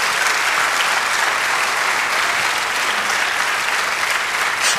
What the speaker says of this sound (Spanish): Denle un aplauso, si se lo va a dar al Señor,